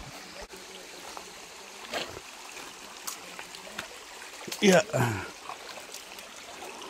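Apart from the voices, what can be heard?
flowing stream water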